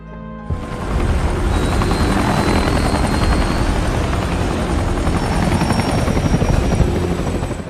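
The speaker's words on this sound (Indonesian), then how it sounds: "Lalu 3 helikopter itu kemudian meminta izin kepada Komandan Luo untuk lebih dulu pergi ke zona aman" Three helicopters' loud, steady rotor roar fills the scene, droning continuously from start to finish with a low throbbing chop.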